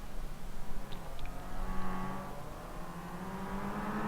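A Kia Optima touring race car in an iRacing BTCC event at Okayama, its engine droning and rising steadily under acceleration, moderately loud with a continuous whirring tone.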